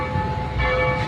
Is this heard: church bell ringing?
yes